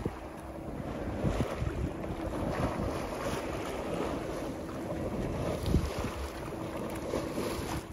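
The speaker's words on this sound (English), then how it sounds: "It's good to have wind in the sails again." Wind fills the sails of a sailboat under way on open water, a steady close rushing roar with microphone buffeting and light knocks, and no voices.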